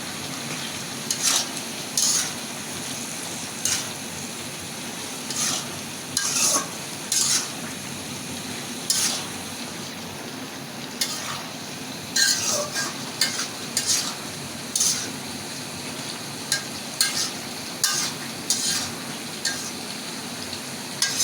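Cumin seeds frying in oil in a pan while being stirred, a constant close sizzle broken by repeated metallic scrapes and clinks of a spoon against the pan.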